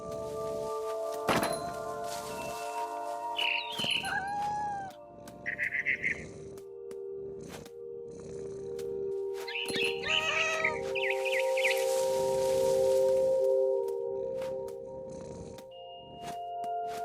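A cat meows repeatedly in the video game What Remains of Edith Finch, with several drawn-out cries and caterwauls spread across a steady ambient background, broken by occasional thunks and clicks.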